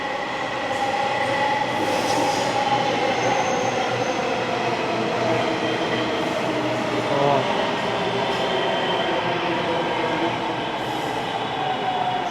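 A metro train running, a loud, steady rumble with continuous wheel and rail noise and a faint squeal, heard from inside a carriage without letting up.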